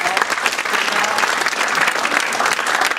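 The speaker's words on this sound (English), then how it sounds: "A big round of applause for Mark and Larry Galko, who have put that together." A seated audience at a business panel event gives dense, even applause, with continuous close-packed clapping throughout the few seconds at moderate loudness.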